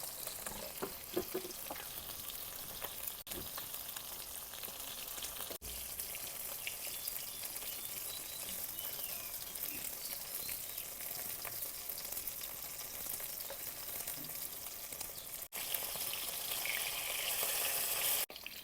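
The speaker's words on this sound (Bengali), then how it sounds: "সবগুলা মাছ লাল লাল করে ভাজা নিলাম" River fish frying in a pan while being cooked for a potato and eggplant curry, a steady close sizzle with crackles and occasional stirring clatter that grows slightly louder toward the end.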